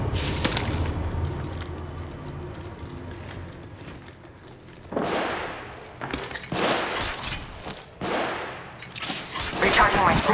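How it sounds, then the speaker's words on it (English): Gunfire in the Apex Legends Mobile battle game, with repeated bursts of shots starting midway and building into heavy, close exchanges, mixed with game voice callouts and ambient noise. "Getting shot at."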